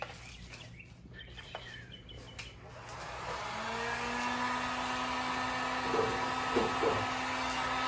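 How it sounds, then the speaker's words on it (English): A heat gun runs and heats up near a 1966 Ford Mustang during undercoating removal, its steady blowing hum rising gradually and holding at moderate loudness, with a few faint clicks and no talk. "So I have a heat gun"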